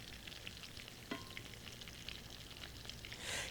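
Shrimp fry in a pan with a steady, close sizzle and light stirring, a sharp clink of a utensil about a third of the way in, and a brief swell of crackling near the end.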